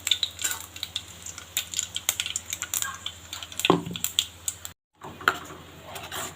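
Onion chutney being stirred and mixed in a pan with its tempering, giving a steady run of close, scraping and clattering strokes, with a brief silent break near the end.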